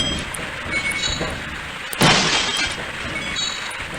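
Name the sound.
glass shattering in the Half-Life video game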